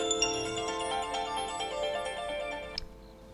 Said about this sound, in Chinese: 手机响了。